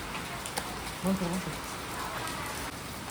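Heavy rain falls steadily at dusk, a constant close hiss of drops on surfaces, with a brief voice-like murmur partway through.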